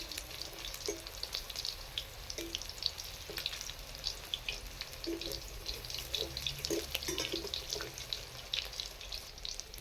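Continuous bubbling sizzle of prawn fritters deep frying in oil, with scattered pops and crackles throughout, steady and fairly close.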